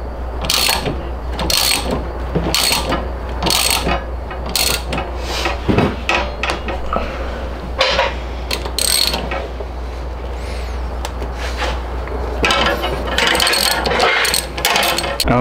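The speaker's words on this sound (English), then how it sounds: "tightening up all the brake lines underneath" Ratchet wrench tightening brake lines under a drift-built Corvette, bursts of quick clicking ratcheting strokes repeating nearby over a steady low hum.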